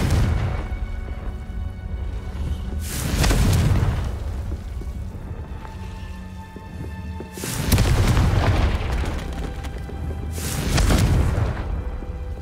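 Confringo fire spell explosions in the video game Hogwarts Legacy: three deep, loud booming blasts at roughly even intervals, each with a rumbling tail, over a steady game ambience.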